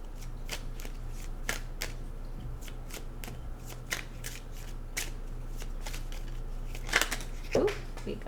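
Tarot cards being shuffled by hand, a run of crisp riffling flicks and soft slaps through the clip, closing with a couple of sharper snaps as cards fly out of the deck.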